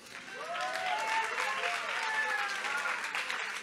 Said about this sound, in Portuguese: Palmas para Maria.